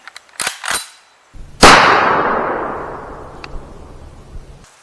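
A single sharp gunshot from a .30 Carbine firearm cracks loudly and close, followed by a long rolling decay of echo over a few seconds, with a couple of faint clicks before it.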